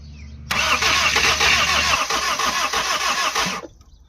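A hot, overheated car engine cranks and catches after half a second, then runs loud and rough for about three seconds before cutting out abruptly, heard close with no talking.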